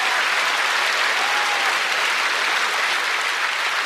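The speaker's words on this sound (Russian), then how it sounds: "Ваши аплодисменты" A concert audience applauds a comedian's entrance on stage, loud, dense, continuous clapping that fills the hall evenly for a few seconds.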